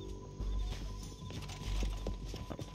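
Horse hooves clip-clop in an uneven walking rhythm with a brief neigh, from the video game Red Dead Redemption 2, fairly quiet and close, with no talking over it.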